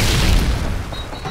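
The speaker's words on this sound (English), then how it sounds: "stun grenade." Stun grenade detonating in Call of Duty: Modern Warfare 2, a loud low boom that swells and rolls off over about a second, with a faint high ringing tone emerging near the end.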